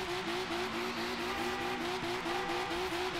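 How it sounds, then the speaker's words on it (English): A drift car's engine at the ICFDC Season 4 finals runs in a steady, faint, distant drone with an even pulsing beat throughout. "They fire up the engine here"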